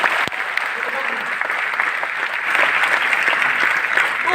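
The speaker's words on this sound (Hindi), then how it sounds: "जोरदार तालियां।" Loud, dense applause from an audience at a sales training seminar, continuous clapping that swells slightly toward the end, with some voices mixed in under it.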